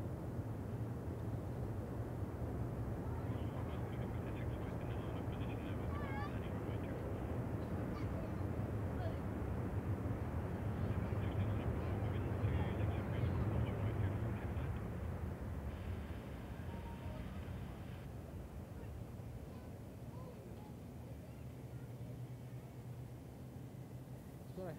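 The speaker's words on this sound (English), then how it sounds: "See the big military aircraft?" Boeing C-17A Globemaster III military transport arriving in the evening at Perth Airport, a steady distant jet roar that holds for about fifteen seconds then eases, with faint talk underneath.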